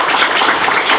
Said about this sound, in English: Let's give these guys another round of applause.